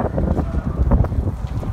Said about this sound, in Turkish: Bu arada felaket bir rüzgar var çalıştığımız alanda.